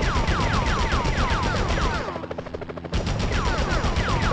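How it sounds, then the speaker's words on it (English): Rapid gunfire from the Spider-Man PS1 game, loud repeated bursts with a steady rattling rhythm and sweeping whistles overhead, pausing briefly near the middle before resuming. "Enough with the shooting already!"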